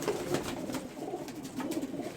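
Soft, low cooing of Lakha pigeons, a few gentle murmuring calls over faint background noise.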